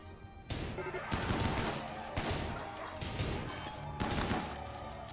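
Turrets in the game Rimworld fire in loud rapid bursts, repeated volleys roughly every second with crashing impacts, close and dominant.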